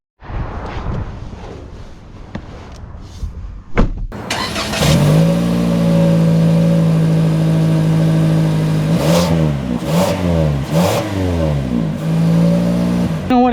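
A 2025 Toyota Corolla FX starts out with a low interior hum, then its engine swells into a loud, sustained rev as the car accelerates, with the pitch climbing and dipping through gear changes.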